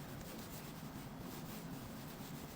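Marshmallow primer being rubbed into skin with the fingertips, a steady soft close-up friction swish lasting a few seconds with no talking.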